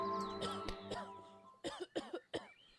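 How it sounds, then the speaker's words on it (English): A person gives a few dry, hacking coughs, several sharp, loud bursts in a short uneven cluster, close and with no speech around them. "you find yourself coughing. A dry, hacking cough, so loud it takes you by surprise."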